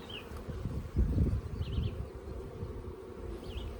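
Honey bees buzz around a top bar hive outdoors, a faint, continuous droning hum with a few brief closer passes, low rumbling handling noise in the background.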